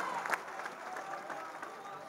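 An audience at a football club's squad presentation applauds and cheers, a dense wash of clapping with a few sharper claps, continuing steadily at moderate volume.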